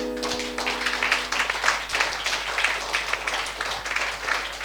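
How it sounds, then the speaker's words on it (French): A church congregation applauding loudly to acclaim the king during a blessing service, a dense and steady wave of clapping that holds evenly from start to finish. "Acclame très fort le roi"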